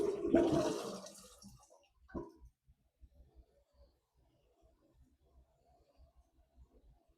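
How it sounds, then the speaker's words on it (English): An American Standard Champion 4 toilet flushes with a loud rushing surge of water that quickly fades into quiet trickles and small drips as the tank refills. "Let's check our flush."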